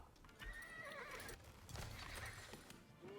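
Horse archers' horses in the real-time strategy game Age of Empires 4 whinny and clip-clop amid faint battle clatter, several neighs rising and falling over a few seconds, quiet and without talk.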